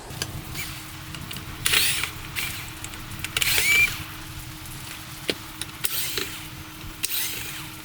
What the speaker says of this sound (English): I did remove those Phillips screws on each side, a total of 4.